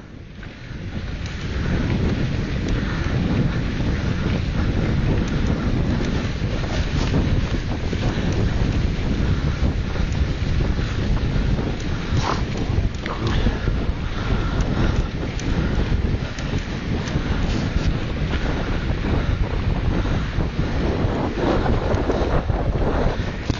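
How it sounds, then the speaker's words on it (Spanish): Wind blowing hard at the seashore, a loud, steady rushing roar with buffeting against the microphone and a faint wash of surf beneath, lasting throughout with no voices. "Increíble, pero estamos en el mar."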